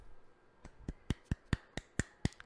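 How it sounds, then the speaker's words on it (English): Sparse, crisp claps sound close and dry in a steady, slightly accelerating rhythm, about eight distinct strikes over two and a half seconds, with no talking. "Clapping."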